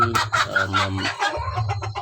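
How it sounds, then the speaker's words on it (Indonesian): Free-range native village chickens cluck and squawk in their coop, several birds calling close by in busy overlapping bursts. "memelihara ayam kampung apa saja ayam kampungnya yang ada di hadapan saya ini"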